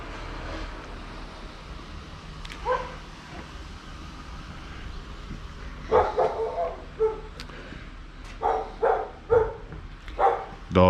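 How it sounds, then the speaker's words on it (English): A dog barks in a garage, a few scattered yips at first, then a run of sharp, loud barks spaced about half a second to a second apart, with no talk over them. "Dog's always happy to see you."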